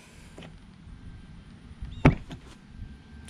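The stiff, sticky door handle of a 2018 VW GTI SE is pulled, giving a single sharp latch clunk among faint handling clicks and taps in a quiet setting.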